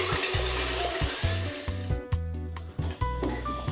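Electric mixer beating egg whites into meringue at high speed for an apricot tart cake, a steady close motor whine with slight pitch shifts as the beaters move through the bowl.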